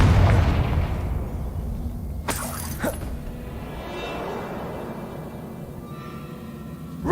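A Confringo spell explodes in the video game Hogwarts Legacy on PS5, a heavy booming blast with a sharp cracking burst, followed by a rumbling, fading tail.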